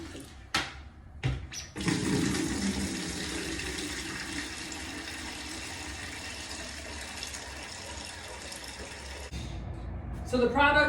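Daiquiri mix drains from a frozen daiquiri machine in a steady, moist liquid rush that runs unbroken for several seconds after a few brief knocks, then trails off into softer trickling near the end.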